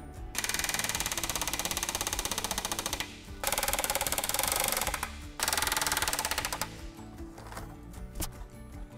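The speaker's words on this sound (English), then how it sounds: "The center panel is riveted in place." A rivet gun hammers an aircraft panel during a Skyraider restoration in long, loud, rapid buzzing bursts with brief pauses between them, followed by quieter clanks.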